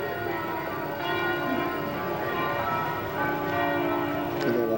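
Church bells ring out over a square in Venice, heard from a nearby room as a steady layered peal of overlapping tones with no talking.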